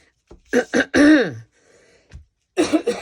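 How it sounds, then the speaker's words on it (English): A few short, harsh throat-clearing coughs, close and abrupt, separated by brief silences. "I apologize for my coughing."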